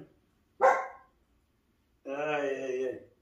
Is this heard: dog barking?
yes